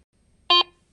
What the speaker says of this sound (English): Ferrous targets, such as iron and nails, usually produce a low-pitched audio signal.